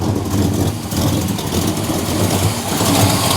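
A 1968 Chevelle 300 V8 with leaking headers idles at about 1,000 RPM, a loud, close, steady rumble with a rough, uneven low-end throb lasting the whole stretch and no talking.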